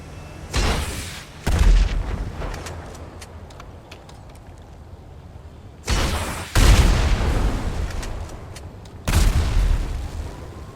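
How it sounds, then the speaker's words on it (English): In GTA 5, rockets strike a petrol pump and set off three loud, booming explosions several seconds apart, each a sudden blast with a long rumbling decay and quieter debris between them. "When a rocket struck a petrol pump, a massive explosion would follow, sending debris flying and creating a fiery spectacle."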